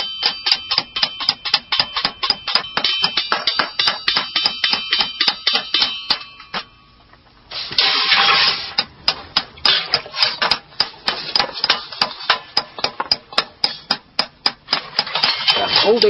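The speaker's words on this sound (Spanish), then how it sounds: "golpeando y modelando el hierro a altas temperaturas" Hammer strikes on hot iron pieces being shaped into a three-piece medieval helmet, a fast steady run of ringing metallic blows, briefly pausing and then resuming, close and loud.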